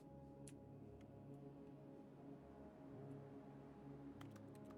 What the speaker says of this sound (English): Still sounds like a keyboard.